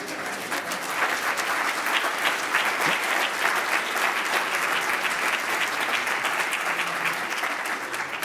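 Sustained applause from an audience at a climate lobbying organization's conference meeting, a dense, steady patter of many hands clapping that holds evenly for the full stretch without fading.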